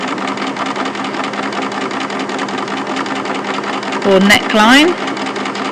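A sewing machine stitches bias binding around a garment armhole with a steady, fast mechanical whir. Near the end someone speaks briefly over two short bursts of sound.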